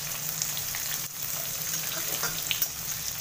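Onion slices sautéing with already-fried garlic in a pan sizzle steadily, a close, even crackle with faint scraping stirs, no voices.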